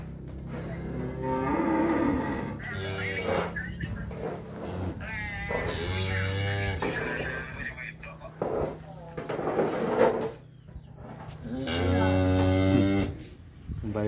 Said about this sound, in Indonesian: Sapi ngene iki ra betah panas kok.